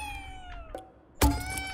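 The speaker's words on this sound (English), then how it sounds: "This is a cat that has a lot of things we already have." A cat meows in the video game Ghostwire Tokyo: a fainter drawn-out call followed by a louder, closer meow near the end, with no talk over it.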